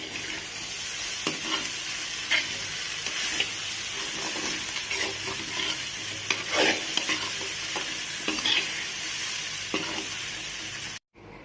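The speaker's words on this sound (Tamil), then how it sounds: "இப்போ இதை நல்லா கலந்து விட்டுக்கலாம்" Egg fried rice is stirred in a hot pan, a steady close sizzle with repeated scraping strokes of the spoon running continuously, then stopping abruptly at the end.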